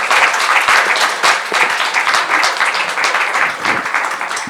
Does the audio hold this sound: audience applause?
yes